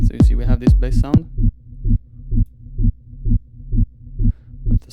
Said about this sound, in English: we have this bass sound